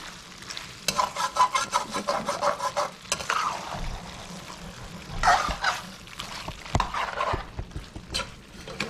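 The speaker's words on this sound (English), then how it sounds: "Give this a stir. Make sure it doesn't Burn." A spoon stirs chicken curry in a pot over a low sizzle, scraping in repeated quick strokes at first and then in slower sweeps with a few wet splashes, close by.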